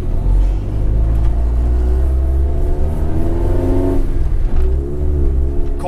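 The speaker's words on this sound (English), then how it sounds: "Cold motor rev limiter." A cold Honda CRX engine held hard against its rev limiter, a loud continuous high-rpm roar with a stuttering, bouncing tone that dips and climbs as the limiter cuts in.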